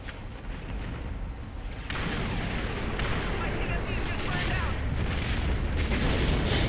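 Heavy booming cannon fire from star cruisers in a modded space battle game, a dense continuous barrage of blasts and explosions that swells after the first couple of seconds and rumbles on with no pauses, loud and close.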